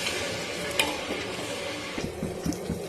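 Sugar syrup for semolina laddu simmering in a pan on the stove, a soft continuous bubbling hiss with a few light scrapes of a ladle stirring through it.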